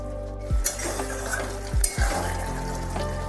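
Green pea curry (koraishutir) cooking in a pan, with a steady sizzle and bubbling broken by three sharp spatula knocks and scrapes against the metal, close and loud, with no talking.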